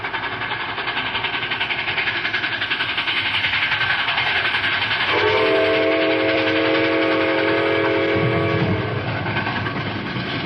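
A runaway train approaches with a loud, constant roar, and a long, strong whistle blast sounds through the middle of the stretch before fading back into the rumble of the rails.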